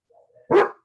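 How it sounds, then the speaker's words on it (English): A single sharp dog bark, close and loud, preceded by a faint soft whine. "And then Sanchez, no barking."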